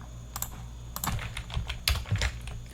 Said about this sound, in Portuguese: Eu vou até dar um Ctrl C, Ctrl V aqui, para poder ficar mais rápido.